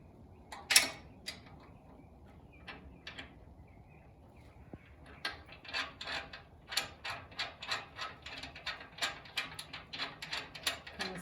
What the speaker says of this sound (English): So I have to take off the bolt that I put on.